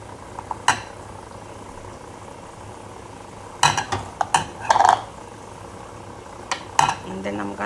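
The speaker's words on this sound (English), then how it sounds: "And then I'm gonna stir." A spoon stirs black-eyed pea stew with tomato paste in a pot. Quiet stretches are broken by scattered clinks and scrapes of utensil on cookware, in two brief clusters.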